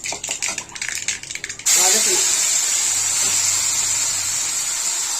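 Onion, tomato, ginger and crushed garlic hit hot oil with a loud, steady sizzle that continues unbroken after a brief burst of clattering handling noise at the start.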